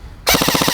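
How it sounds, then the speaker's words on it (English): An ICS Lightway Peleador gel blaster fires a fast burst of gel rounds, about eight sharp, closely spaced pops right after a quiet start, loud and close with no talk. "For the first test, let's see how hard this blaster's firing."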